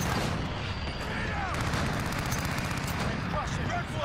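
Continuous gunfire and explosions from a Modern Warfare multiplayer video game fill the whole stretch, dense and loud, with talk underneath.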